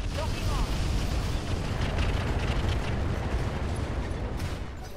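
Incendiary weapons firing in the mech combat game Roguetech, a loud, sustained roaring barrage of bursts and explosions that fills the whole clip at close range.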